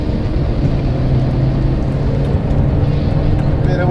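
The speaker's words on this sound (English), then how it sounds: "Bit of wheel spin" A car at speed on the Nurburgring Nordschleife, approaching the Carousel, gives a dense, continuous roar and rumble from close by, steady throughout with no speech over it.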